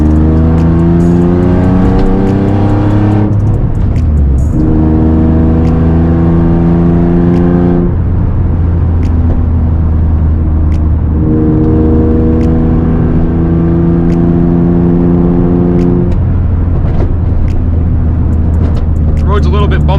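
A loud Nissan 350z engine pulls hard through curvy back roads, rising and falling in repeated acceleration runs with gear-change dips, heard from close inside the car.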